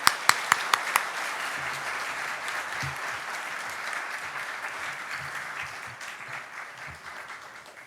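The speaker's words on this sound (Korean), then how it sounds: "하나님께는 영광의 박수요, 목사님께는 사랑과 따뜻한 격려의 박수로 모시겠습니다" A congregation at a Sunday church service applauds to welcome the pastor: sustained, dense applause filling the room for several seconds, preceded by a few sharp separate claps at the start, with faint low voices beneath.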